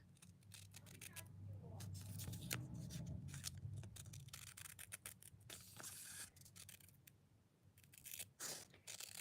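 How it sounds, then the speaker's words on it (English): Small scissors trim a piece in quick, crisp snips with rustling in between, while a voice talks over the cutting. "I use these little tiny scissors when I'm doing really finite projects"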